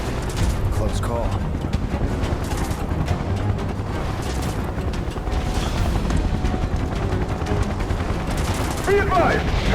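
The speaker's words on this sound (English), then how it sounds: "Open fire! Shoot to kill!" Gunfire in the video game Final Fantasy 7 Remake: dense, continuous bursts of automatic shots and booming impacts filling the scene, with shouting voices mixed in.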